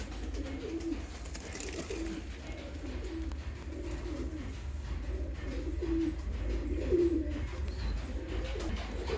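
Pigeons coo in a breeding loft of Kalsira and Giribaz cross birds, an angry male pigeon guarding eggs among them, with repeated low throaty coos rising over a steady hum of room noise.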